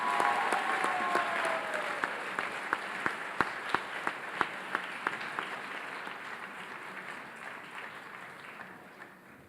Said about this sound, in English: Let's give all these students one more big round of applause.